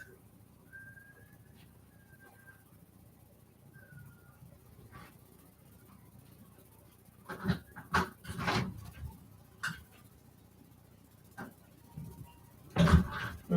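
A dog whines and pants in a household with a child nearby, thin high whimpers early giving way to louder bursts of yelping and commotion toward the end, no speech over it.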